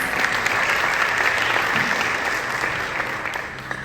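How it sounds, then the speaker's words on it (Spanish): A church congregation breaks into loud, close applause, a thick wall of clapping with crisp individual hand strikes, tapering slightly toward the end. "Un aplauso para ustedes."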